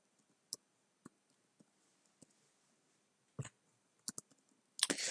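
Computer keyboard keys tapped sparsely while an email address is entered, faint isolated clicks spaced irregularly, ending in a brief louder burst of clatter.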